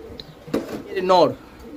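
A Maltese pigeon gives a short, soft cooing call close by, heard over a voice talking.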